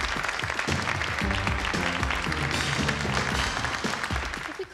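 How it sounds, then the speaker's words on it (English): Loud, dense applause from a fashion show audience fills the space, with music playing underneath and the clapping continuing steadily throughout. "Ladies and gentlemen, a nice round of applause for the boys and girls on the catwalk today."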